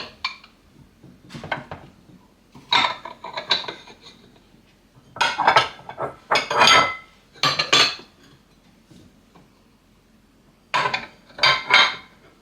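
Ceramic bowls and dishes shifted around inside a kitchen cupboard, bursts of clinking and clattering scrapes spaced apart by short quiet gaps, loud and close.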